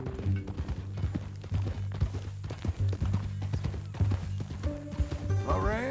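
Horse hooves clip-clop in Red Dead Redemption 2 at a steady walking rhythm, fairly close, mixed with game music and ambience while characters talk over it.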